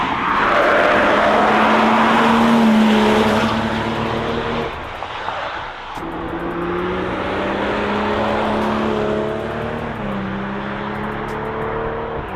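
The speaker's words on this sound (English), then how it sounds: "The new 2 Series has also been spied testing several times, and here's a little glimpse at what it will sound" A next-generation BMW 2 Series prototype on a test drive gives a loud, close engine drone whose pitch climbs steadily, drops sharply as gears change, then rises again through two further pulls.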